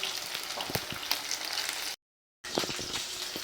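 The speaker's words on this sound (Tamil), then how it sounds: "இப்போ பாருங்கள் நல்லா ஃப்ரை ஆகிடுச்சு" Fish coated in store-bought fish masala frying in a pan, a steady close sizzle with crackles running throughout, broken by a brief silent gap before the frying resumes.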